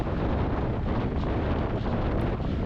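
Headwind buffeting the microphone while riding a mountain bike on a long ride, a loud, constant roaring rush with no speech.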